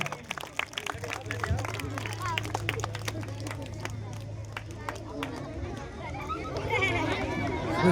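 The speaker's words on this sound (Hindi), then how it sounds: "इन बच्चियों के लिए जोरदार तालियों से स्वागत करते रहिए" A crowd of people claps loudly to welcome young girls at a Beti Bachao Beti Padhao event, with steady, dense applause over a low hum and background murmur that carries on throughout.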